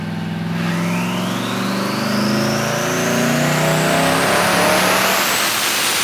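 A rear-wheel-drive twin-turbo V8 Honda Civic revving hard on a dyno, its loud, continuous engine roar climbing steadily in pitch throughout.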